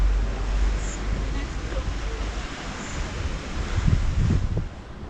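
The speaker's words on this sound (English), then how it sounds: "It's nice to hear the waves." Steady ocean surf washes continuously at Palmanova, mixed with wind rumble on the microphone, a broad constant roar outdoors.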